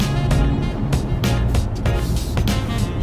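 A 2018 BMW 340i engine in sport mode revs hard with rising and falling pulls, loud and close, with sharp bursts between throttle blips.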